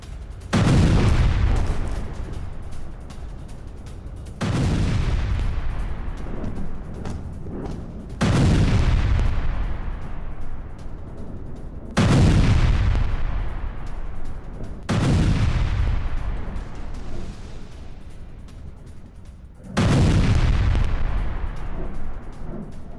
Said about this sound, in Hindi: आल हुदैया में भीषण मिसाइल अटैक किया गया है।